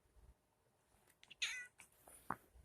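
A cat gives a couple of short, close meows separated by quiet gaps, with brief rustling in between and no talk.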